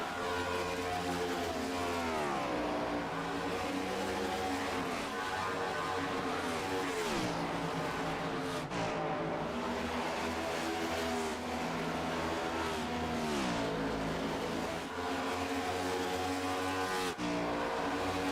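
Race cars lapping Chicagoland Speedway in a Mystic Cup Series race, a constant loud engine roar with pitch rising and falling as cars accelerate and pass, no voices over it.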